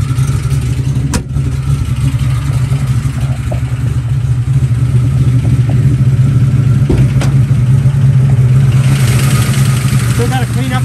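A 427 cubic inch small-block V8 in a 1967 Camaro idles with a deep, steady rumble, close and loud for about eleven seconds, with a few sharp clicks and faint background noise.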